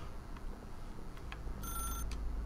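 A telephone in The Stanley Parable rings once with a bright, bell-like trill, fairly faint over a low ambient hum, with a few soft ticks just before it.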